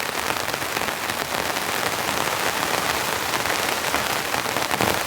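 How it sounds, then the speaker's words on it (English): Heavy rainstorm pouring down on a compact van camp, a dense steady hiss of rain hammering surfaces up close, loud and unbroken with no voices. "it's like a full-blown rainstorm now."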